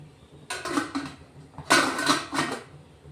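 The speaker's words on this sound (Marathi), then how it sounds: "अशी प्लेट ठेवून घ्यायची." A steel plate is set into a dhokla steamer pot on a gas stove, giving two short bursts of metallic clatter and clanking, close and fairly loud, with quiet pauses between.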